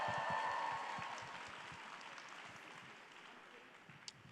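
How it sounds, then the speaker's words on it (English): An audience at the Konkani Sammelan 2022 fireside chat applauds for Anisha Padukone, a broad wash of clapping that starts fairly loud and slowly thins and fades over about four seconds, with no talking on top. "can we also get a huge round of applause for Deepika's sister,"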